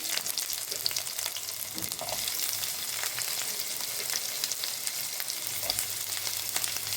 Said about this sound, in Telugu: ఇప్పుడు అదే బాణలిలో సన్నగా కట్ చేసి పెట్టుకున్న ఆనియన్స్